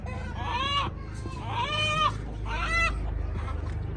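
A rooster makes three short, harsh clucking calls in a row, close by, over a low steady background hum.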